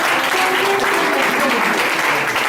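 Loud, dense applause from a church congregation fills the space continuously, with cheering voices mixed into the clapping at a prophetic preaching service.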